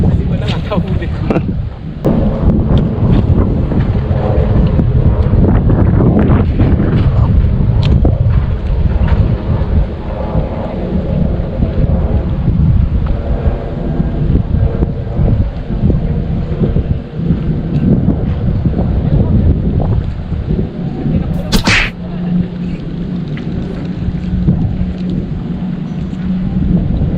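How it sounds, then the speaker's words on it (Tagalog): Strong wind at sea roars against the microphone aboard a small fishing boat during ajing fishing, a loud, constant low rumble with gusty surges and a brief voice near the end. "Lumakas kasi ang hangin."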